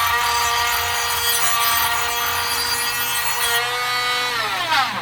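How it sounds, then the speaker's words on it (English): A sanding wheel grinds steadily against a knife part, giving a continuous high abrasive whir and rub that holds for several seconds, then winds down with a falling pitch near the end, with no talk. "the next step to get it prepped is I use a sanding wheel"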